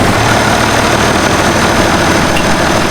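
Diesel tractor engine idling close by, a loud, steady low rumble that holds evenly throughout without speech.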